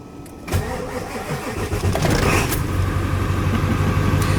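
A Ford Power Stroke diesel truck engine cranks, catches and roars to life, then settles into a rough, loud, steady idle.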